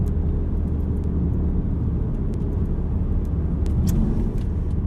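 A VW Golf R Mk7 three-door hatchback with a DSG gearbox on the move, heard from inside as a steady, loud low engine and road rumble that holds evenly throughout with no speech.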